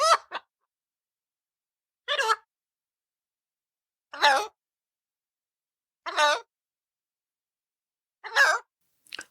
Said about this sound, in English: he flaps his wings and squawks loudly, his piercing cries echoing through the silent house